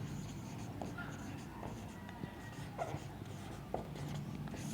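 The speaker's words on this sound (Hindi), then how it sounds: "तो हम यहाँ पर लिखते हैं विधान परिषद।" Faint scratching of a pen or marker writing a heading during a civics lesson, scattered soft strokes over a steady background hum, with no clear talking over them.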